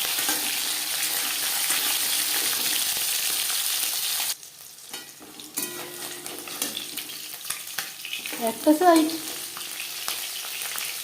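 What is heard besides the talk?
tyangra fish frying in oil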